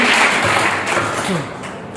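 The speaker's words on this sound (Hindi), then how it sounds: "तो इनका भी मनोबल बढ़े इसके लिए बहुत जोरदार तालियां।" A brief burst of loud, dense audience clapping greets a young girl about to recite a school poem at a Hindi poetry gathering, close and steady before easing slightly.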